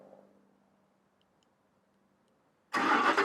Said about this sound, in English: I can start this car from here